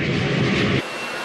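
B-1B bomber with four General Electric turbofan jet engines, a loud close roaring rumble that drops abruptly to a quieter hiss after under a second, no voices.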